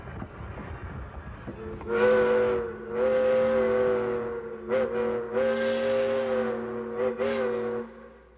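A steam locomotive pulls toward a switch onto the main track, its engine chugging steadily beneath a loud, sustained whistle that sounds in several long blasts with short breaks, close and dominant.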